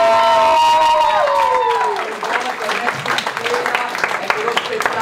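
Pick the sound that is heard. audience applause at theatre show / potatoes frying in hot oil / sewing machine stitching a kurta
audience applause at theatre show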